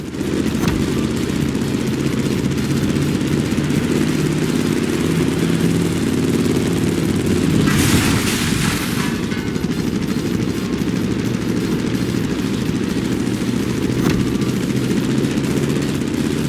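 Plane engine in The Crew Motorfest racing game, a loud continuous droning hum with a steady rumble throughout a sharp turn, plus a brief hissing whoosh partway through and no speech over it.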